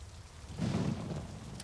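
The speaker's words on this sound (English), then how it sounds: "It's raining again today, so that's good." Rain with a low roll of thunder in the video game The Stillness of the Wind, a soft steady patter swelling briefly as the rumble passes, quiet and heard alone.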